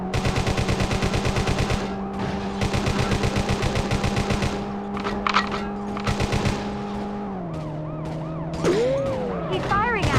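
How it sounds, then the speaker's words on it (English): Rapid bursts of automatic gunfire rattle in the World's Scariest Police Chases video game, laid over a continuous wailing police siren that later bends downward in pitch, with brief radio-style voices near the end. "He's firing at us."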